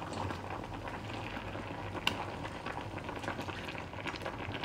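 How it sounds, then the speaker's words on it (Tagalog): Water heating in an electric kettle, a steady rushing, bubbling roar of near-boiling water with a small click partway through, close and continuous. "nagpainit na din ako ng tubig sa electric kettle"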